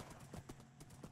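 A horse in the Minecraft video game clip-clops along, its hooves striking in a quick, fairly even rhythm at low volume with no talk over it.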